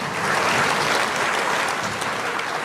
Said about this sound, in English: let's give a round of applause for the beautiness around us